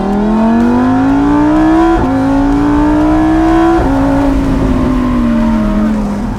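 Loud, close Lamborghini Huracán 531 bhp V10 engine revving through rising pitch sweeps, with sharp shifts between gears as it pulls hard and then eases off.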